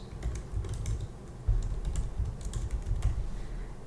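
Rapid, irregular key clicks on a computer keyboard as a file name is typed, close and clear, with no speech.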